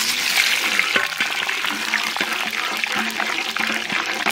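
Whole spices with bay leaf and dried red chilli temper in hot mustard oil in a wok, a loud, dense, bubbling sizzle that runs steadily throughout.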